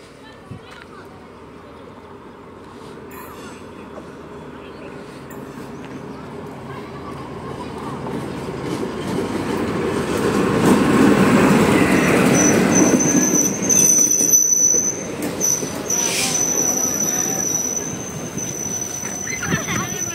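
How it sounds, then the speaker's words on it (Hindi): Passenger train from Bamanhat to Siliguri Junction arriving at a station in India: a rumbling approach that grows louder, with high squealing wheels and brakes as the carriages roll in close, while people talk over it. "तो ये रहा जो ट्रेन देखिए आ रहा है ट्रेन"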